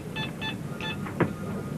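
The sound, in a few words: telephone call transfer beeps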